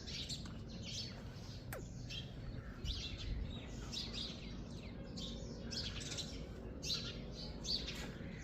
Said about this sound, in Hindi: बेरी के दरख्त के ऊपर छोटी छोटी चिड़ियाँ चहचहा रही हैं।